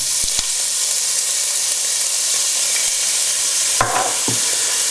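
Garlic and pancetta frying in a pan, a steady close sizzle with a few brief clacks of a utensil stirring.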